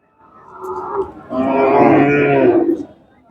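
A single loud, close moo from a native cow at a cattle market, rising and drawn out for about two seconds.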